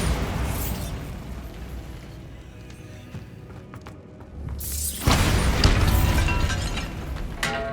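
A Bombarda spell goes off in the Hogwarts Legacy video game inside a tomb: a low rumbling lull, then a sudden loud blast with crackling debris and a lingering roar.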